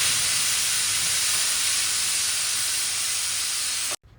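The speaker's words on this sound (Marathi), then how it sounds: "कुकरचं झाकण लावून आपल्याला कुकरची 1 शिट्टी करून घ्यायची आहे" A kitchen pressure cooker, steaming ridge gourd vegetables, lets out its whistle as a loud, steady, unbroken hiss of escaping steam that holds for about four seconds and then cuts off abruptly.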